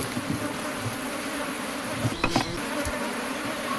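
Honey bees buzz steadily around a Kenyan top bar hive after a honey harvest, a dense continuous drone of many insects close by, with a few louder passes of individual bees near the middle.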